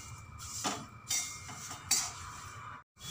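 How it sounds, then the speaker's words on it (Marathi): Thin poha roasting in a dry pan for chivda, with several distinct scraping and clinking strokes of a spatula against metal, fairly quiet and close, with no talk. "आता हे पूर्ण भाजून घेते मी अशाच प्रकारे."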